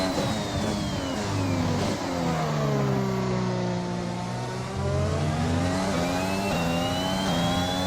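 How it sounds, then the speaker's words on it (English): The Red Bull Honda Formula 1 car screams around the Portugal circuit in a racing video game, its engine pitch climbing and dropping through repeated gear shifts. The engine runs loud and continuous with no talking. "I think I'll just let you guys enjoy pure engine sounds from this newly upgraded to the fastest car, Red Bull Honda"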